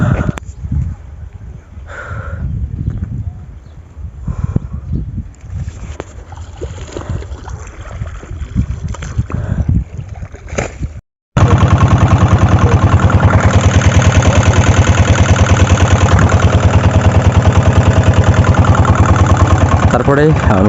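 A ferry boat engine at Baniyakhali ghat in the Sundarbans, a steady loud mid-pitched drone with water and background voices, then a sudden cut to a harsher continuous roar as the crossing gets underway.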